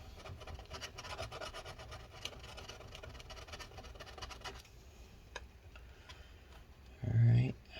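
Old battery adhesive being scraped out from inside a 15-inch 2012 MacBook Pro A1398, softened with rubbing alcohol: a steady, close rasping scrape with small ticks, fading quieter midway before a short, louder thump near the end, with a voice talking over it.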